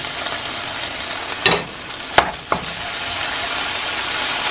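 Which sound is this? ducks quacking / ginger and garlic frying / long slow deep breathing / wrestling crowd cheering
ginger and garlic frying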